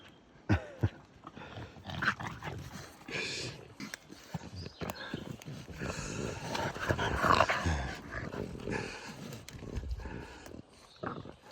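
Dogs make noises outdoors in a Carpathian mountain forest amid rustling and movement, with soft growly sounds and scattered thumps throughout.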